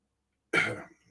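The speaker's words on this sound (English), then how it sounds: "For some reason, I keep getting this cough." One sharp, close cough bursts out after a moment of silence, then fades quickly into a brief rough trailing breath.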